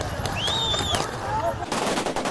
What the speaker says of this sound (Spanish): Se escuchan los primeros tiros.